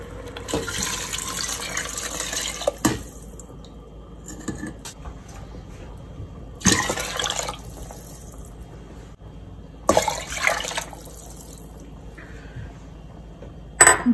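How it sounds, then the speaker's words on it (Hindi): Water pours from a tap into a cooking pot of harira soup in several separate gushing bursts, with quiet pauses and faint clinks of cookware between them. "डेढ़ लीटर पानी मैंने इसके अंदर डाल दिया है।"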